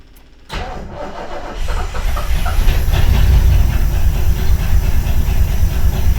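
A 1969 Lincoln engine cranks briefly and then fires up, settling into a loud, steady idle with a broad rumble and some hiss. No one talks over it.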